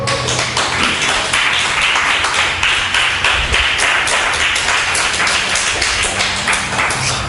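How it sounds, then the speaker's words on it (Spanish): Sustained, rhythmic applause from a church congregation during a Spanish-language sermon, dense and loud, continuing for several seconds with no speech over it. "Denle un aplauso al Señor."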